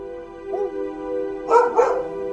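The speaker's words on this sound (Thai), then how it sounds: "หมาหอนและเห่าอีกนาน" Dogs lying outside on a porch at night: a drawn-out howling tone holds steady, then two close, loud barks break through near the end.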